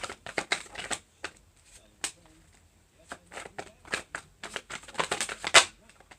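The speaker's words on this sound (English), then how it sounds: "Just go ahead and shuffle out enough of them." Tarot cards being shuffled close up in a quiet room, giving rapid papery riffles and clicks in irregular bursts with short pauses between them.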